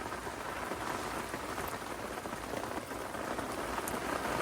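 Steady heavy rain at a lake campsite in strong wind, a dense, unbroken hiss of drops on surfaces throughout, close and even, with no talk.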